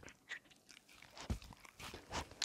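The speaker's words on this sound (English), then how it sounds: "He's eating my keyboard." A dog chews and bites on a computer keyboard, giving irregular crunching, clicking bursts close by with short pauses between bites; no talk.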